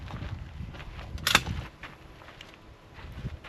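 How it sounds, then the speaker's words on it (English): A rifle action worked by hand to clear the weapon at an outdoor gun range, with one sharp, close metallic clack in a quiet outdoor setting with light wind. "I'll just make sure the weapon is clear."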